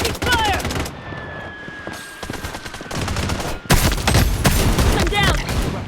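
Rapid bursts of gunfire from the video game Blood Strike crackle in dense volleys at the start and again toward the end, with loud impacts and short game voice callouts in between.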